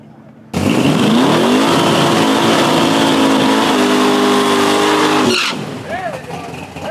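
A loud drag race car engine at a drag strip roars up from idle and revs hard at full throttle for several seconds, then cuts off abruptly, leaving faint background noise.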